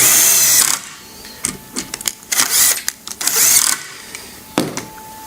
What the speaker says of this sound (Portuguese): Vocês viram que eu fui recuando a broca à medida que eu fui fazendo o furo.